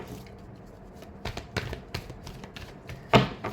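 Tarot cards being shuffled by hand: soft, irregular riffling taps and slaps at close range, quiet at first and growing busier, ending with one sharper snap of the deck.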